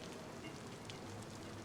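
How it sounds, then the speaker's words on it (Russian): Steady rain in the DayZ video game, a faint, even hiss of falling drops with no breaks and no voices. "Блин, дождь начинается."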